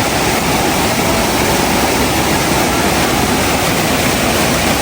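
Troll Falls, a waterfall on a hiking trail in Canada, gives a loud, steady, broadband roar of rushing water with no breaks, heard up close and filling the whole scene.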